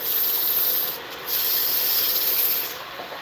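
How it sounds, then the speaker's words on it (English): Steady hand sanding of wood with coarse 80-grit sandpaper, a close, loud, continuous scratchy rubbing with a brief pause before the strokes resume, no talking. "you have to take and sand them by hand"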